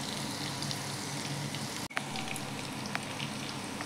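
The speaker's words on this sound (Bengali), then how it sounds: "তো চলো আস্তে আস্তে সবগুলো ভেজে নিই" Pieces of stuffed ash gourd (chal kumra) frying in oil, a faint steady hiss with scattered light pops, broken by a sharp thud as a piece is flipped.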